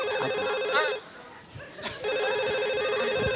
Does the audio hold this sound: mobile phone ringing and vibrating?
yes